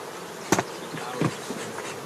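Honeybees drone around opened hives of struggling colonies, with a steady close hum and a couple of sharp buzzing passes as single bees fly near.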